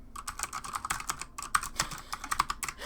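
Rapid, uneven typing on a computer keyboard, close and fairly loud, with clustered keystrokes and brief pauses throughout, no talking.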